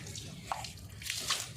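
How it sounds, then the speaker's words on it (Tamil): Water poured over a child in playful splashing in a small home swimming pool, with soft splashes and trickling drips, moderately close, and no talk. "எவ்வளவுதான் ஊத்துவ?"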